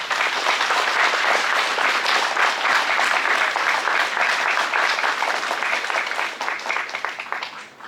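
Audience at a district forum in Gwangjin, Seoul, gives sustained, dense applause welcoming the district mayor, steady and loud throughout before tapering off at the end.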